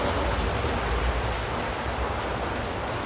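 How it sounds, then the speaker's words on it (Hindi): Sudden heavy rain pours down steadily, a dense, even hiss of drops drumming on surfaces that stays loud and constant throughout with no voices. "बहुत ज़्यादा बारिश गिरने लग गई अचानक।"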